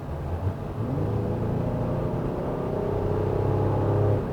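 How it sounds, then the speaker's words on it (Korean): Honda Pilot SUV accelerating hard with the accelerator pressed down, a steady engine rumble and rising drone heard from inside the cabin, building gradually and continuing without a break. "가속이 필요해서 가속 페달을 꾹 눌러 밟을 때에는"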